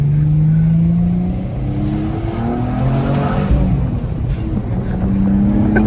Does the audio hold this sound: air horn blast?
no